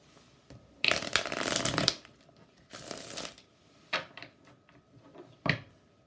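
Chakra oracle cards are shuffled close by, with two longer riffling bursts followed by a few sharp taps and flicks, quiet in an otherwise still room.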